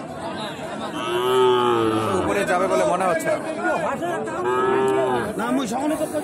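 Young Gir heifer calves, six to seven months old, moo loudly and at length at the Ambari cattle market, with traders chattering and someone talking close by over the crowd.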